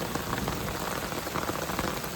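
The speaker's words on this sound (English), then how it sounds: "we were like flooding under the tent, so much rain" Heavy rain drums on a camping tent on an Appalachian Trail hike, a loud, close, continuous patter of drops without any voices.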